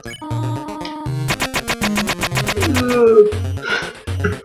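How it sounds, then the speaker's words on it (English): Busy burst of chiptune-style electronic tones with rapid pulsing blips and low buzzy thumps, the cluttered dodging sound effect in Undertale. "That was the sound of me dodging."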